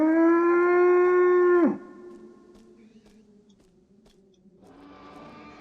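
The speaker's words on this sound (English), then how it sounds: "I'm sure the Triceratops call has to have been in a movie somewhere, but that sounded so much like a cow to me" A Triceratops calls in the Jurassic Park Hunter Legends video game with a long, loud, cow-like moo that holds steady and then drops off sharply. A fainter, similar lowing call starts near the end.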